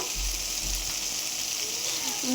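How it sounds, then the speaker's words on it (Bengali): Fish frying in a pan on a home stove, a steady broadband sizzle with soft low thumps near the start, continuous and close. "এখানে মাছ ফ্রাই করছি"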